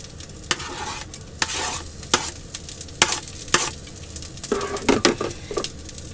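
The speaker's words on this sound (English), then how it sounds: "Stir in said garlic." Garlic sizzles in a hot pan while a utensil stirs it, giving a steady frying hiss broken by repeated scraping strokes against the pan.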